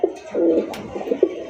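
A black Lahori pigeon coos up close with its chest puffed out, giving a few throaty rolling coos in quick succession, loud and clear with no talking.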